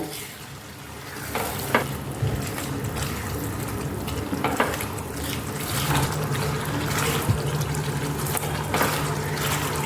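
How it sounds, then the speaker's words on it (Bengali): Masala for a katla fish kalia is stir-fried in a pan with yogurt and a splash of water, giving a steady close sizzle and bubbling with scraping stirs and occasional clinks throughout, with no talking. "এখন আমি আরও তিন থেকে চার মিনিট কষিয়ে নেব"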